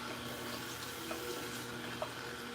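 Tap water runs steadily over fruit and vegetables rinsed for a green juice, a continuous close hiss and splash with a couple of brief knocks, and no talking.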